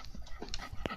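A puppy pants close by in quick, short breaths during a brief moment indoors.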